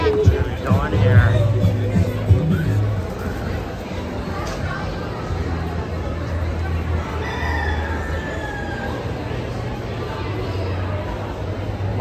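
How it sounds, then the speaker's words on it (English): Chickens and a rooster crow and cluck in a livestock barn at the Minnesota State Fair. Crowd babble and nearby talking run underneath throughout. "Oh, that's a huge chicken."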